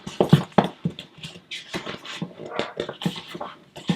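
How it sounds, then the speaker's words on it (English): A dog barks, pants and whimpers close by in a room, a busy run of short yips and vocal bursts filling the whole stretch with no speech. "Dog barking in the background."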